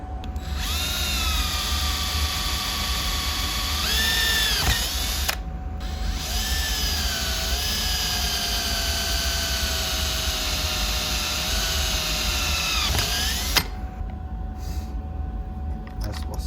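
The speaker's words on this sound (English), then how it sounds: "then I just drill a hole where the tape's marked" A power drill whines steadily at high speed, pausing briefly twice and shifting pitch as it bores a hole in an RC car body, then stops near the end.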